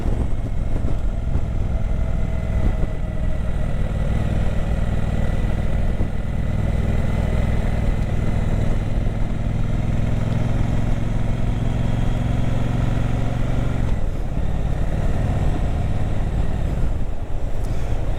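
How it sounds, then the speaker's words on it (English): A Triumph Speedmaster 1200 motorcycle hums along a hilly country road at a steady cruise, its engine drone loud and continuous with wind noise, shifting pitch briefly near the end. "we're here for a pleasure ride"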